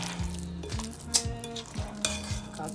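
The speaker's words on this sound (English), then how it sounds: "I combine my sausage mixture with the mushrooms and the celery" A sausage mixture with mushrooms and celery stirred in a sizzling pan, with a spoon scraping and clinking against the pan in irregular strokes over a steady close frying hiss, no voices.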